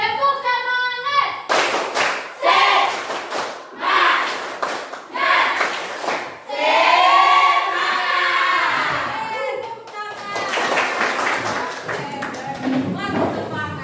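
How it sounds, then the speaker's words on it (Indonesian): A classroom group performs the rhythmic 'tepuk semangat' clapping routine: bursts of sharp claps in patterned sets, mixed with chanting voices and a brief shout, loud and close. "Tepuk semangat"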